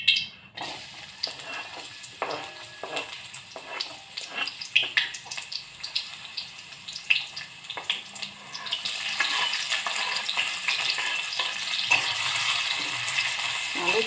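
Onions sizzling in a hot pan while cooking bitter melon, with crackling spatter and occasional stirring scrapes, the frying growing louder and denser in the second half as the sizzle settles into a steady hiss.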